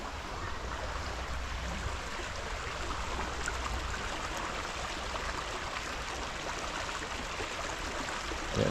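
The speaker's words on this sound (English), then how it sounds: "This is the water through Confederation" Water flows steadily in a stream through Confederation Park in Calgary, a constant, soft rushing wash with no talk over it.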